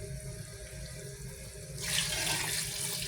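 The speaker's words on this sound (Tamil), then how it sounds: "அந்த புளி கரைசலை ஊற்ற போகிறோம்." Tamarind water is poured into a fish head gravy, and a steady liquid rush rises halfway through over a low background hum.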